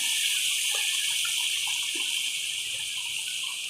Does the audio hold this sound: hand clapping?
no